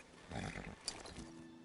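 Horses in the Game of Thrones video game neigh and snort at mid distance, a short breathy whinny followed by a faint hoof clatter and a low ambient hum.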